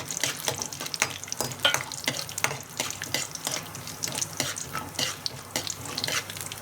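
Urad dal, chana dal and dried red chillies fry in hot oil, a dense continuous crackle and sizzle with quick popping bursts throughout, close and fairly loud, no voices.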